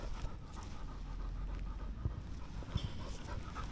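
A dog panting after a walk outdoors, with quick, steady breaths close by over a low background rumble and no talking.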